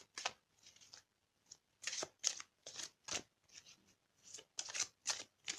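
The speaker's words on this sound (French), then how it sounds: "on va prendre une carte de l'amour universel pour compléter un petit peu le tirage" Oracle cards are shuffled and drawn in a quiet room, giving repeated soft riffling bursts in a steady rhythm with brief pauses between them.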